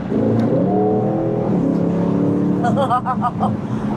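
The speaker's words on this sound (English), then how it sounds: "you can hear the phenomenal engine note that comes out of the AMG sourced 4-liter twin turbo V8 engine" An AMG-sourced 4-liter twin-turbo V8 in a 2026 Aston Martin Vantage Roadster roars steadily up close, its deep rumble rising and falling, with a few sharp crackles near the end.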